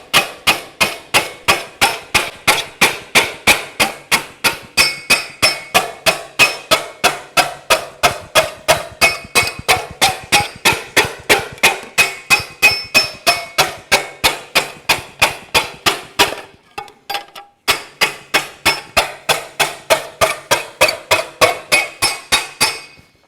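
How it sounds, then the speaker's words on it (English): Metal body slapper smoothing a hard line in a motorcycle fender panel, a fast, even train of sharp ringing slaps repeating steadily for over twenty seconds with a brief pause near the end, close and loud with no talk. "So we put it on the part here, and we'd use the slapper just to"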